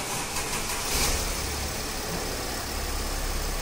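Air suspension compressor motor of a Mercedes ML 350 CDI with Airmatic, running with the vehicle started: a steady, even mechanical drone and hum holding at one level throughout, close by, with no talk.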